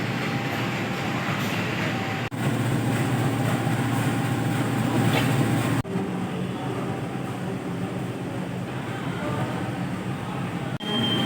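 The Dhoho local passenger train arrives at a station in Indonesia, rumbling steadily nearby with a continuous low roar and faint metallic clatter, a few brief squeals of wheels rising over the noise.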